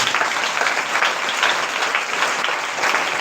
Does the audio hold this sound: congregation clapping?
yes